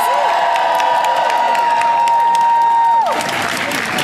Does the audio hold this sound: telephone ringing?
no